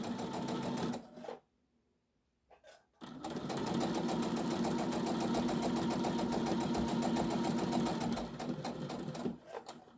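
A sewing machine stitching a tote bag runs in a fast, even mechanical whir, stops briefly for a pivot with the needle down, then runs steadily again to the end.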